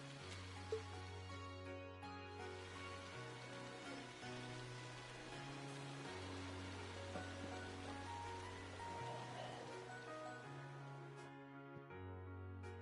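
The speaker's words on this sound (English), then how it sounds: "With summer well underway, a rainy spell seemed to hang over Trista." Steady rain falls throughout a scene in the video game Trails of Cold Steel, a soft continuous patter heard alone under a slow, looping game music bed.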